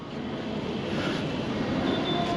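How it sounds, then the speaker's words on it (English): A train rolls past near Howrah Station in a steady, broadband rumble with faint high squeal, close and loud throughout, with no talking. "there's a train going"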